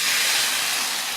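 Steady, continuous steam hiss recorded close to the microphone, broad and bright with no breaks, evoking early industrial machinery, with no voices.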